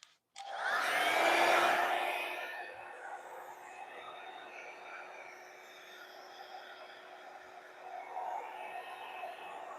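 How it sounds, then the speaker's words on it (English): A small handheld blow dryer blows warm air over wet fluid art paint, starting with a loud whooshing rush that settles into a steady close hum and hiss. "I'm gonna grab my gun, my little blow dryer"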